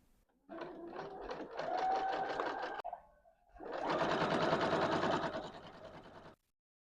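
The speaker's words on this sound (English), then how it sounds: "Now all you have to do is sew them together in order." A sewing machine stitches fabric panels together with 1/4 inch seams for a Christmas tree skirt, in two steady close runs of rapid stitching separated by a short pause.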